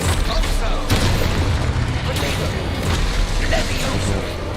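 A fiery blast from the Exposo explosion spell in Hogwarts Legacy, a dense, loud rumbling burst that fills the whole moment with crackling debris and booming texture, with a voice briefly under it.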